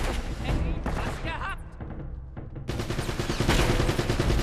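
Pistol gunfire in the video game Uncharted: Drake's Fortune, with dense, rapid shots cracking over loud game noise and a few brief gaps, then a heavier burst of firing toward the end.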